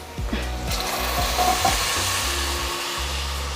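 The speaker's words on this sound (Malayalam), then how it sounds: "ഇനി ഈ മസാലേൻ്റെ പച്ചമണം മാറുന്നവരെ ഒന്ന് നന്നായിട്ട് മൂപ്പിച്ചെടുക്കണം" Masala for sambar roasting and sizzling in a pan, a steady close crackling sizzle with stirring scrapes, and a low droning hum running underneath.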